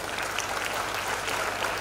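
Audience applause at a government arts fair event for disabled artisans in Raipur, a dense, even burst of many hands clapping at moderate loudness throughout.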